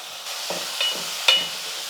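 Chopped tomatoes, three of them, tipped into a pan of well-sautéed onions and stirred as they start to fry, giving a steady soft sizzle with a couple of brief louder scraping stirs.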